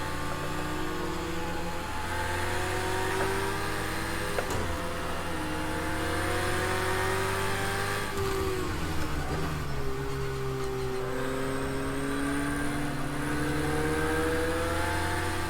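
A race car engine in a racing video game climbs and drops through gears, its steady whining tones sweeping up and down as it accelerates and brakes through corners, fairly quiet and continuous with no talking.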